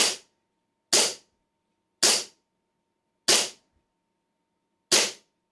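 Five sharp shots from a KWC/Cybergun Colt 1911 100th Anniversary airsoft pistol, each a crisp crack with a brief tail, spaced about a second apart and isolated in silence.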